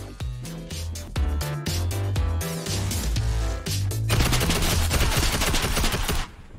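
Rapid automatic gunfire from a video game, loud sustained bursts of shots firing close and continuously with brief gaps, then cutting off near the end.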